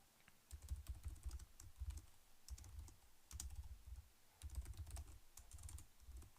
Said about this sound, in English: my goodness, my typing today